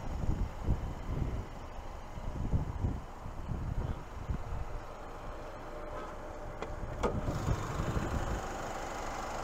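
The 2.7-liter turbocharged four-cylinder engine of a 2023 Cadillac CT4-V idling with the hood open, a steady low rumble with faint ticking and some fluctuating thumps nearby.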